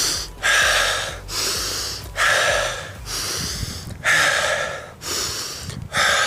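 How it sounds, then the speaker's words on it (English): Heavy, rhythmic breaths drawn in and pushed out close to the microphone, roughly one loud breath per second, as someone recovers after sprinting during a football stamina workout. "Focus on that breathing."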